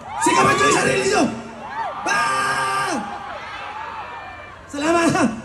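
Crowd at a concert at a color run event shouting and cheering in loud bursts, with whoops and rising yells repeating several times close by and dropping briefly between bursts.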